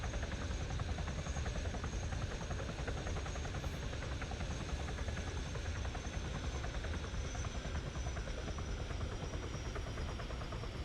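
Steady, unbroken rotor and engine drone of a Chinook helicopter in a military video game, loud and constant for about eleven seconds with no talk over it.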